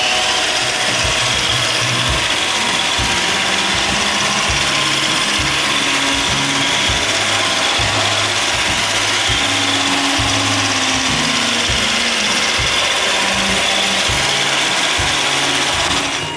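iRobot Roomba 551 robot vacuum fitted with an AeroVac bin, running on a test battery: a continuous loud hiss of suction over a rough, rattling low motor churn, heard close up with no talking.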